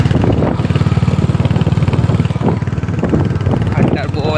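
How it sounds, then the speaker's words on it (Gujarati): A new, heavy Hunter motorcycle idles close by with a steady, throbbing low rumble while people talk over it. "હન્ટર બહુ હેવી છે બાઇક"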